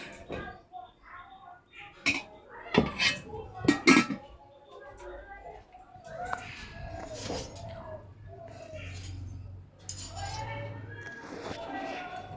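Rice is served onto a plate at home, with several sharp clinks and scrapes of metal dishes and utensils, a cluster of loud knocks early on, then softer handling while people talk nearby.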